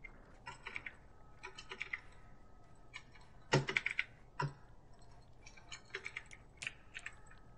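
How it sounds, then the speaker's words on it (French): Sparse, quiet clicks of a computer keyboard and mouse during gaming, tapping irregularly, with a louder cluster of keystrokes midway; nobody speaks. "Bon, clavier souris."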